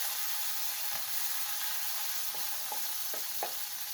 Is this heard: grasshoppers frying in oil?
yes